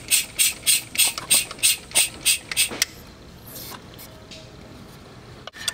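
A rapid series of about nine sharp mechanical clicks with hissing bursts as vacuum is applied to an actuator on a Ford Windstar and its rod moves, then a steady low hiss and one final clunk.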